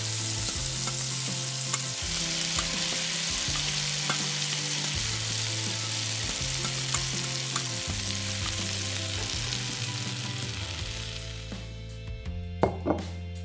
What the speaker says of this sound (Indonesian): Cepat tumis sayurannya.